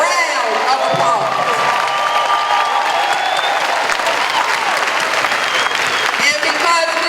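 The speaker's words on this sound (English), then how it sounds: "a rousing, roaring round of applause" Large audience at an Alabama State University Honors Day ceremony giving honorees a loud, sustained round of applause with scattered cheers, a dense unbroken roar of clapping with voices mixed in.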